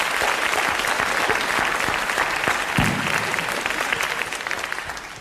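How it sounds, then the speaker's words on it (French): Dense audience applause on a 1981 French television show, a loud, continuous crowd of clapping hands with a few sharper claps standing out, tapering slightly toward the end. "je vais vous demander d'applaudir"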